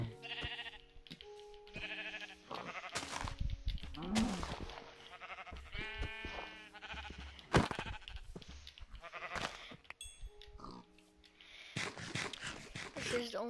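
Sheep in a survival video game bleat in several short calls, mixed with game sounds and background music while a person talks over them.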